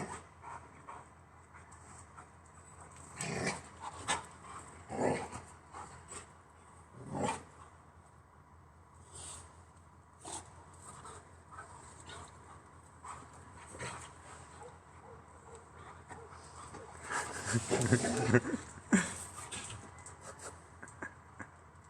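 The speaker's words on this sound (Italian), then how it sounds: "E non mordermi, il cane è pericoloso." A dog pants and whimpers in soft, intermittent bursts at close range, with a few louder yips and snuffles, rising in activity toward the end amid faint household background.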